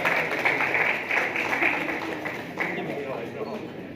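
Applause from an audience at a film press conference, a steady wash of many hands clapping that holds for several seconds and slowly thins, with a speaking voice over it.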